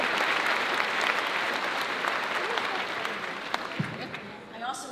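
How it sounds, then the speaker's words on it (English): Sustained audience applause fills a school district opening-day assembly in Parkland, steady and dense throughout, then thinning near the end as a voice begins over it. "Another round of applause for Dr. Jamie J."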